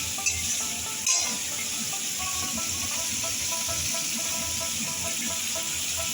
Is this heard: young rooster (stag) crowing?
no